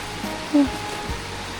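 Steady rushing of flowing water fills the scene, a constant broadband wash with a faint low murmur passing briefly underneath.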